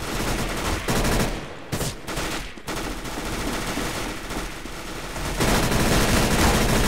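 Sustained automatic gunfire in the Counter-Strike: Global Offensive Arms Race game mode, a dense, loud, continuous rattle of rapid shots with a couple of brief gaps.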